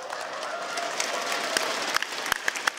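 A large crowd at a Rainbow Six Siege esports event applauds continuously in a dense wash of clapping, with sharper individual claps and cheers popping out near the end.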